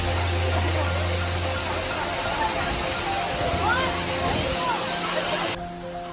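Manche waterfall in Devgad in the Konkan region pours in a steady, broad roar of rushing water, loud and continuous, with voices faintly mixed in before the sound drops away sharply near the end.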